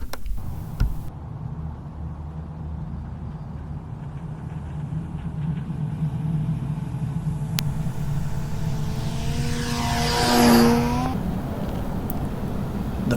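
E-Flite PA-20 Tri-Pacer electric RC model plane with a 51-inch wingspan, converted to tricycle gear, flying in the morning: a steady motor drone and rumble that rises as it passes close overhead around ten seconds, then eases away.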